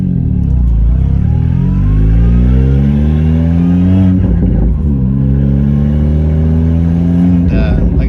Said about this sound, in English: you guys can hear the transmission with the PPG gears, the nice gear whine.